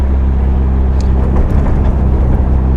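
A 1973 VW Super Beetle drives along with a steady, low engine drone and road rumble throughout, fairly loud and close, with no talking.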